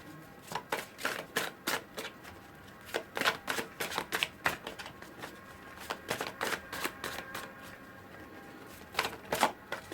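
Tarot cards riffled and shuffled in quick, crisp bursts, close and fairly quiet, repeating in uneven clusters with no talking.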